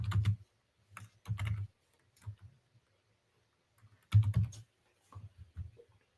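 Several short bursts of clacking keystrokes on a computer keyboard sound close and clear, separated by brief pauses, with no voices.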